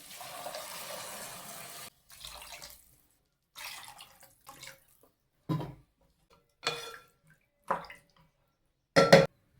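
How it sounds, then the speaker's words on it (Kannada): Water is poured into a pan of vegetables while cooking foxtail millet, a sustained splashy pour first and then several short bursts with pauses between, close and fairly quiet. "1 ಕಪ್ ನವಣೆ ರವೆಗೆ ನಾನು ಇಲ್ಲಿ 4 ಕಪ್ಪು ನೀರು ಹಾಕೋತಾ ಇದ್ದೀನಿ."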